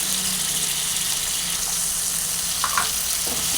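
Rohu fish curry with potato and yogurt sautéing in a pan over medium heat, a loud, steady, dense sizzle with a couple of faint clinks, close up and with no talking.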